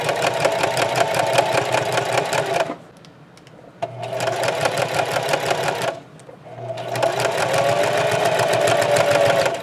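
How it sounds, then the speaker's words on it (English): Sewing machine stitching small pockets on a lemon placemat tote at medium stitch length, three close, loud runs of rapid rhythmic needle chatter with brief pauses between. "So I'm going to start off with stitching the little pockets."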